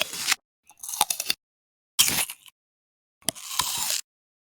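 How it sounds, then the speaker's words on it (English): Bites into a crisp apple, four short crunchy bursts spaced about a second apart, close and alone with silence between them. "Apples are crunchy."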